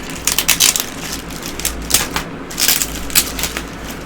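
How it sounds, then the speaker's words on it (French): A HyperX product box being unpacked: crinkling, crackling packaging and plastic handled up close in irregular bursts, with no talking. "Et sans plus tarder nous allons passer au déballage."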